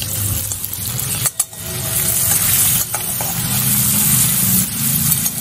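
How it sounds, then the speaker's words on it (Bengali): Prawns and chopped onion fry in a pan with a loud, continuous sizzle, broken by a couple of brief clattering scrapes from stirring. "এবার পেঁয়াজ আর মাছ একটু ভালো করে ভেজে নেব।"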